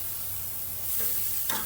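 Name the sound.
carne asada and tortillas sizzling on a griddle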